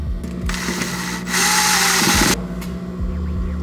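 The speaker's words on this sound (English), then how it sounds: "I'm just gonna grab the drill and tighten up the collar here" A power drill tightening a collar on a laser cutter whirs in short bursts, with one longer, louder run in the middle, over a steady background hum.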